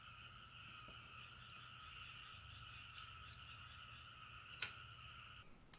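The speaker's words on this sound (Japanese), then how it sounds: "外では田植えが終わりカエルの大合唱。" Chorus of frogs calling outside after rice planting, a continuous faint trilling drone with a couple of sharp clicks near the end and no voices.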